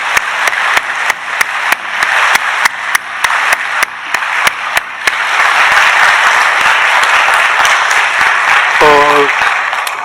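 A church congregation breaks into loud, sustained applause during a Sunday worship service. The clapping starts as scattered sharp claps, swells into a dense roar that continues to the end, and a short tone is heard near the close.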